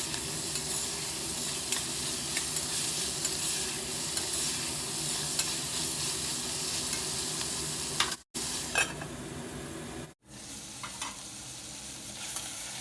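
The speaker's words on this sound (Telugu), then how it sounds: "ఫ్లేమ్ లోలో పెట్టుకొని కాలీఫ్లవర్ని ఆయిల్లో ఫ్రై అవనిద్దాము" Cauliflower with a pinch of turmeric frying in oil in a covered pan on a low flame gives a steady, dense sizzle throughout. The sizzle breaks off twice for a moment near the end, and no voices are heard.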